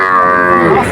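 A calf at a cattle market lows once, a loud, close, drawn-out moo that fills about a second with no talk over it.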